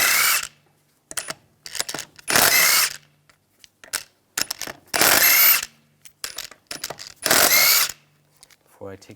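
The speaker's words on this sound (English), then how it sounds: "Remove the wheel, use a 17mm socket, take the lug bolts out." A tool with a 17mm socket spins lug bolts off the front wheel of a 2001-2006 BMW 325Xi, heard as several loud, close bursts of whirring and clattering separated by short quiet gaps.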